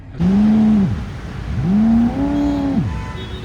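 Mahindra BE6 electric car accelerating with its synthetic Sonic Suite engine sound, two rising, swooping tonal sweeps, loud and close, the second holding higher before cutting off.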